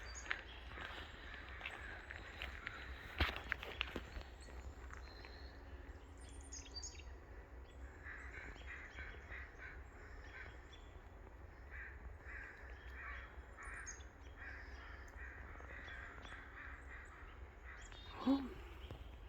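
Outdoor bird calls on a walk, with crows cawing among other birds, steady chirps and caws over a continuous background hum, one louder call near the end.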